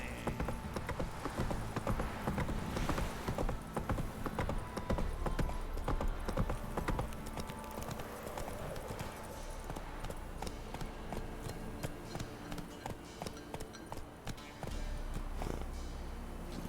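Horse hooves clip-clop in a quick steady rhythm on a path in The Witcher 3, continuous and fairly close, with game ambience and faint background sounds beneath.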